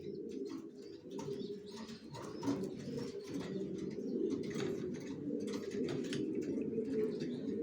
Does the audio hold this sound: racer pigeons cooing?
yes